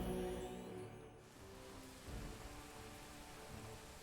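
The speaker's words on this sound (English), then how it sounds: "Currently raining." Faint, steady rainfall in the video game Pathfinder: Wrath of the Righteous hisses continuously with a low rumble underneath, quiet and even throughout.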